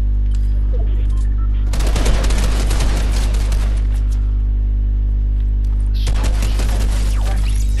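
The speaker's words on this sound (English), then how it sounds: "Someone's shooting me." Fortnite squads gunfire in two sustained bursts of rapid automatic shots, loud over a constant low mains hum, with no voices.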